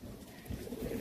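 Long-distance Madrasi Kabootar pigeons in a loft give a soft, low cooing, faint and brief under steady background noise.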